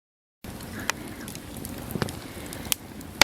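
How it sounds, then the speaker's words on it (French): A crackling campfire burns outdoors at night on a camping stop near Edmonton, with a steady low rustling hiss broken by a few sharp, isolated pops and snaps, close and fairly quiet, with no talking. "Feu de camp en amoureux."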